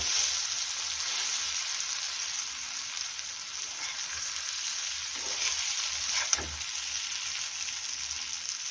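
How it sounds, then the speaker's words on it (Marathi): Stuffed green chillies fry in a pan with a steady, even sizzle throughout, joined by soft scraping as they are stirred and one sharper clack of the spatula near the end. "झाकण काढलेलं आहे आपण फिरवून घेऊया"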